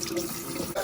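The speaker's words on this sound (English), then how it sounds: "I'm going to add a little hot water" Hot tap water poured from a kitchen faucet while preparing bluegill for cleaning, a steady close splashing stream filling a container, with a brief interruption near the end.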